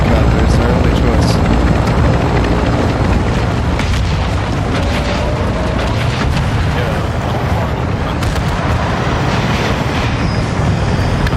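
Helicopter rotor roar in the video game Modern Warfare II during ground war, a loud, steady rumbling drone that fills the whole stretch with dense low thumping and scattered distant booms.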